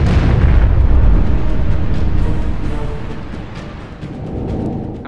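Naval gunfire and explosions in the Battle Stations Pacific video game, a loud rumbling boom that decays over several seconds with a second swell near the end, with no talking.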